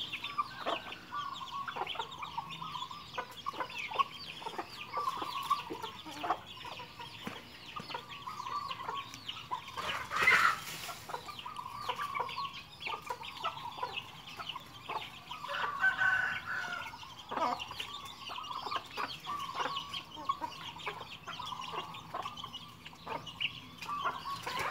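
Chickens clucking steadily at a rural Thai farmyard in the morning, with a rooster crowing partway through; moderately close, continuous poultry chatter without talk.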